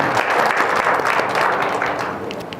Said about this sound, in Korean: 이곳에 불러주신 하나님께 영광의 박수 올려드리겠습니다